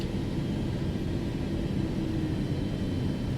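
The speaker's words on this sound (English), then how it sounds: "So I'm gonna go inside and I am going to cut this aircraft off" Low, steady rumble of an Aero Mexico airliner's engines being shut down, a continuous broadband drone heard alone at moderate level with no clear spool-down.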